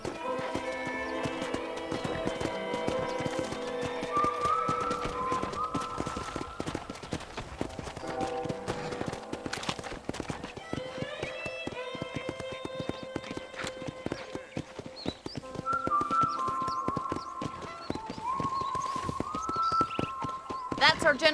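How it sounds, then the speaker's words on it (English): Horse hooves clip-clop steadily through the Western open-world game Red Dead Redemption, mixed under continuous speech and a music score throughout. "I picked out a fine horse for you."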